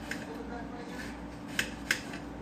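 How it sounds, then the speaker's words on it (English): A kitchen knife slices through an onion and colored bell peppers on a cutting board, a few quiet sharp clicks and taps, two clearer knocks close together near the end. "I'm going to use one whole onion, and then I'm going to slice up maybe a half of each colored pepper."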